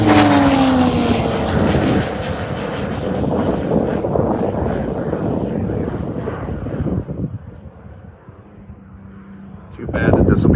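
A Thunder Mustang air race plane makes a high-speed, low-altitude pass, its engine roaring loud and near, then fading away as people talk over it before a sharp burst at the end.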